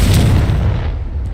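A Confringo fire spell explodes in the Hogwarts Legacy video game, a heavy low boom that swells at once and then fades away over about a second.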